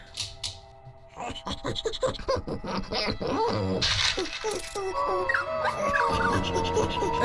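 A dog in the puzzle horror game Bulb Boy whimpers and whines in short, uneven bursts among clicky game sound effects, ending in a run of wavering high whines.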